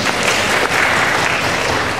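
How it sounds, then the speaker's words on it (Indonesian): Dense, steady audience applause fills a hall at a university postgraduate dialogue with a research minister, loud and continuous without a break, no speech over it. "Oleh karena itu kita tepuk tangan untuk capaian ini."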